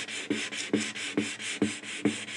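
Dry 1000-grit sandpaper rubbing lightly over a guitar finish to level a scratch, five short rhythmic rasping strokes at an even pace, close and fairly quiet with no talking.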